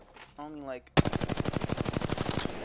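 An automatic gun in a video game empties a full magazine into a target dummy, a fast, loud, evenly spaced burst of shots after a brief spoken word and a short tonal sound.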